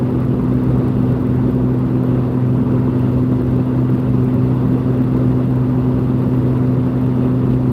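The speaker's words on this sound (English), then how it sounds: "I'm doing 80 right now, so cruising down the interstate" A car cruising at 80 mph on an interstate, with a steady, loud engine drone and road hum that holds constant throughout, with no speech.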